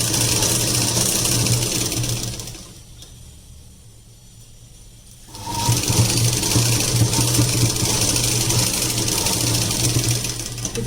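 Sewing machine stitching a long gown made from an old saree, a loud steady motor whir that stops for a few seconds, then resumes running continuously.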